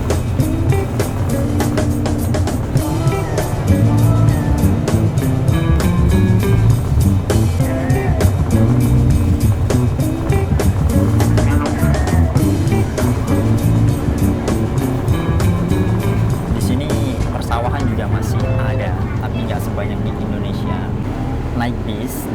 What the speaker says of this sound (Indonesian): Naik bis dalam kota kayak gini ya